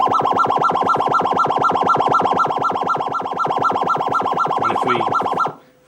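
A bC16 miniature patch synth gives off a loud, fast, steady wobble-board FM warble, the same pulsing tone repeating evenly for about five seconds before cutting off sharply.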